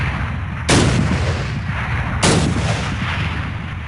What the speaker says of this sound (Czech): tady máme granáty, které jsem chtěl taky otestovat